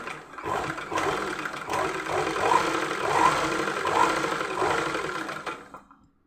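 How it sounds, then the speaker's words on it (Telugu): A sewing machine stitches lace onto a saree, whirring steadily with a continuous rattling hum for several seconds before stopping, close and moderately loud. "లేస్నైతే స్టిచ్ చేస్తున్నాను"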